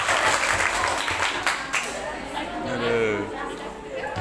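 Applause from a school audience for a student during a prosecutors' outreach program at a school, steady clapping filling the clip with crowd chatter and a voice talking over it.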